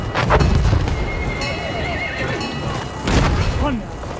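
A horse neighs and whinnies in the war video game Battlefield 1, with hoof clip-clops, a loud whinny near the start and another around the three-second mark over a busy battle soundscape.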